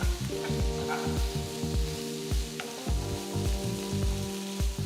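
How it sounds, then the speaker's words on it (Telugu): Four chopped onions frying in hot oil in a pan for a dosa chutney, a steady close sizzle with crackling pops and a recurring humming tone underneath, no talk. "తరిగిన నాలుగు ఉల్లిపాయలు వేసి వేయించాలి"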